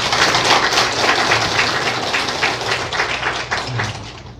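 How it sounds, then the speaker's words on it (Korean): A church congregation at an ordination service bursts into applause, a loud, close wash of many hands clapping that gradually eases off. "박수 한번 주십시오."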